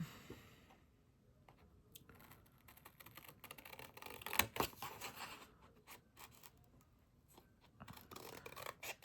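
Scissors fussy-cut paper with quiet, irregular snips and rustles close by, faint and intermittent with soft handling noises between the cuts.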